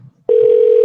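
A telephone's steady dial tone sounds loud and close after a brief quiet moment, holding unbroken to the end.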